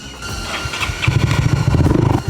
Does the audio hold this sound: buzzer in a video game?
no